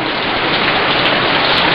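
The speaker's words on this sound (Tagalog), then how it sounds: "Umuulan dito, lakas." Heavy rain pours down steadily in a dense, loud hiss, with no voices.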